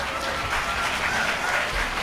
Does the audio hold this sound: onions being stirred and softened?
no